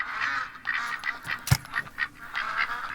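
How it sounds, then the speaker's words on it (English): A flock of ducks quacks steadily in a hunting video game, loud overlapping calls in repeated bursts, broken by one sharp sudden crack midway. "Need to get these ducks out of here."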